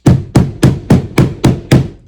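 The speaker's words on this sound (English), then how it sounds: "I'm trying to use a rubber hammer still." A rubber hammer strikes a kayak during a rudder kit installation, seven loud, evenly spaced thuds in a steady rhythm, close up with no talking.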